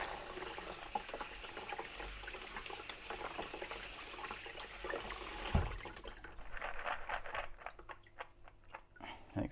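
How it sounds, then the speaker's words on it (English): Water runs steadily over drained beans as they are rinsed, a loose splashing wash that ends abruptly partway through, followed by quieter wet handling sounds. "because you want to just drain them off, give them a little rinse."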